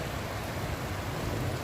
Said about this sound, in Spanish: Miren la lluvia que está cayendo fuerte.